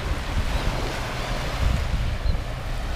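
Ocean surf washing up on Progreso Beach in Mexico and breaking over sandcastle walls, a steady rushing wash with low rumbling swells under gusts of wind buffeting the microphone.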